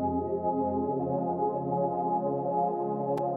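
Synth preset named Dark Matter playing strummed chords: a dense, sustained, airy pad-like wash of tones, steady and moderately loud with no talking.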